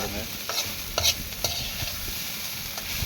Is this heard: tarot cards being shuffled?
no